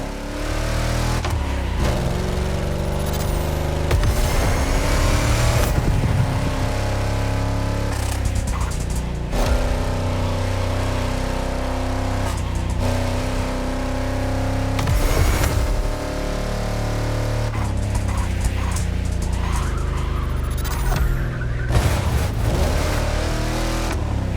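A 1971 Chevrolet Caprice driving with a booming bass-heavy sound system, deep low thumps and engine rumble rising and falling with revving and shifts, loud and close throughout.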